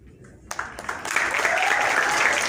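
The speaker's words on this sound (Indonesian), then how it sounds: "Tepuk tangannya" An audience at a press event for an Indonesian band breaks into applause, starting with a few scattered claps and swelling into a loud, continuous round of clapping, with a voice briefly audible at the start.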